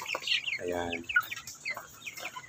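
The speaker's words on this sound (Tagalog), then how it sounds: "ang lalakas nilang tumuka" Chickens pecking at organic feed mixed with rice hulls, with soft clucks and chirps up close among brief tapping and rustling, and a voice faintly in the background.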